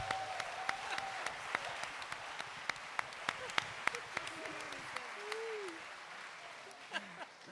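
Audience applause at a live show, soft scattered claps with sharp individual hand slaps standing out, while voices and whoops rise over it and the clapping thins toward the end.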